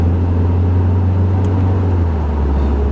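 Lancia Delta 2012 1.6 Multijet diesel engine with Selectronic gearbox, revving steadily with a loud, continuous low drone that holds throughout, close up and with no voices.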